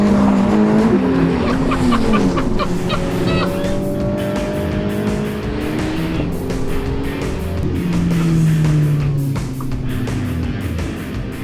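A Ferrari Roma driven hard with traction control off: loud, continuous engine roar with rising and falling revs, sustained tire squeal and skidding throughout, close and dominant with no talk.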